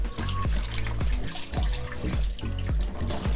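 Cut pieces of meat are rinsed under a running kitchen tap, the water streaming steadily while the food is handled in a recurring pattern of dull knocks and splashes against the sink.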